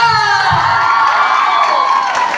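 A crowd cheers and shouts loudly at a comedy skit, with whoops and some clapping mixed into the roar, filling the whole moment.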